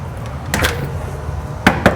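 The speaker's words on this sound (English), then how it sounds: "And knocking on the door." Two pairs of sharp knocks on a door, about a second apart, with quiet room noise in between.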